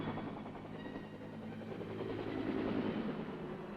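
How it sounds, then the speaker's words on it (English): A Huey helicopter in flight during the Vietnam War, a steady droning rotor and engine rumble that swells slightly louder midway, continuous and unbroken with no voices. "The Huey takes off like an angry hornet."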